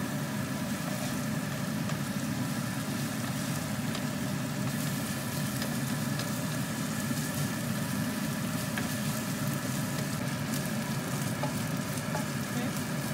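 Ground beef fries in a pan with a steady, even sizzle that holds close and constant throughout, and no one speaks.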